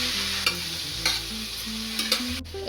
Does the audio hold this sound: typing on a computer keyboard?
no